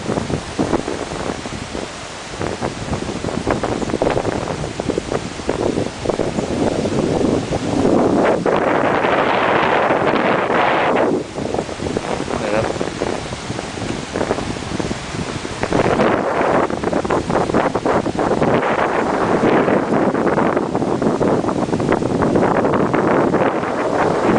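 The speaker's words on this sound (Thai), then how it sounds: "ลม" Strong wind roars steadily on high ground on a Phuket island, with heavy gusts buffeting the microphone and a broad rushing noise throughout.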